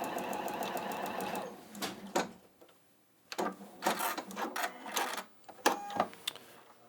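A domestic sewing machine runs in rapid mechanical bursts, its needle ticking fast, stopping briefly, then starting again in short uneven runs at close range.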